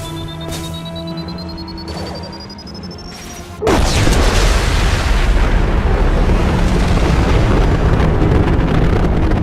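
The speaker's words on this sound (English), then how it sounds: "Impending explosion!" Explosion in the video game Mass Effect 2: a rising electronic whine and tones give way to a sudden loud blast, then a dense, sustained roaring rumble that stays strong to the end.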